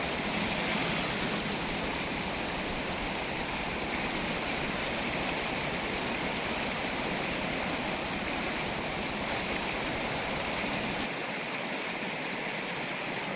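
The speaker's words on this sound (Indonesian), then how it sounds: "Di sini sangat deras airnya" Fast-flowing jungle river water in Aceh, a loud, steady rushing roar that fills the whole span without letting up, close by and with no voices over it.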